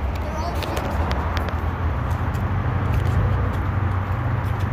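A Ferrari engine runs steadily nearby, a dense low rumble that holds at an even, loud level throughout with faint outdoor noise above it.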